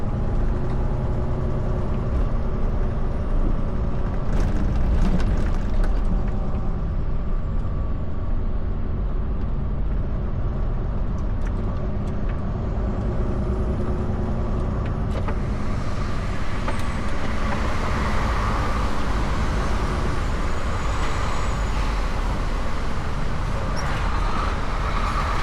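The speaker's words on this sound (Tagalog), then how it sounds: "Traffic, nakita nyo guys ha." Constant downtown Montreal road traffic is heard from inside a truck cab, with a steady low rumble of engines and road noise and occasional passing vehicles, with no talking.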